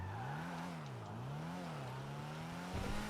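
A Lotus Esprit sports car, called the Ardent in a GTA video game, revs its engine in wavering rises and falls, with a sharper burst of noise near the end, moderately loud and without speech.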